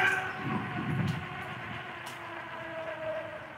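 Metrolink commuter train at Tustin station, a steady rumble and hum of rolling railcars with a faint high tone, moderately near and continuous without talk.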